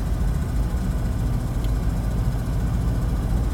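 A Jeep Grand Wagoneer engine running while driving at about 35 mph, a steady low rumbling drone with road noise, heard alone without talk.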